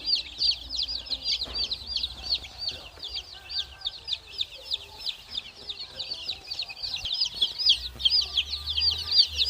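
One-day-old chicks of mixed breeds in a brooder cheep constantly, a dense chorus of high, rapid peeps close by, with a low hum underneath.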